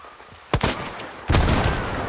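Gunfire in Hunt: Showdown, with a sharp shot at about half a second and a second loud blast around 1.3 seconds whose noisy tail rings on to the end.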